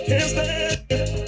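Electronic dance music break section with a sustained synth pad over a bassline, from a track released on the Musical Freedom label; two loud phrases separated by a short gap, with no voices.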